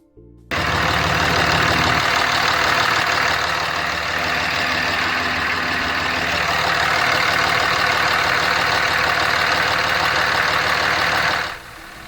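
A Cummins CRD common-rail diesel engine runs on pure Seafoam motor treatment fed through the high-pressure CP3 pump, giving a steady, loud idle with an even knocking rumble that starts abruptly and cuts off near the end.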